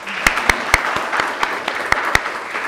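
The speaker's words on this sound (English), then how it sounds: "Round of applause for yourselves." A small audience applauds for a few seconds, with sharp individual claps standing out at an uneven rhythm over a softer wash of clapping.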